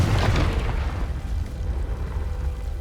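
A Confringo fire-blast spell goes off in Hogwarts Legacy, a heavy booming burst with a deep rumbling tail that lingers loud for a few seconds, with no talk over it.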